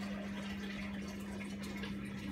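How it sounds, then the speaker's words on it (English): A Black Logik washing machine's drain pump running as water is pumped out, a steady close hum with a constant low tone and no voices. "Yeah, okay, so it's pumping out."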